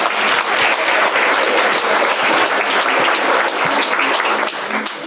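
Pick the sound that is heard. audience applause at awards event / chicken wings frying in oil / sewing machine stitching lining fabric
audience applause at awards event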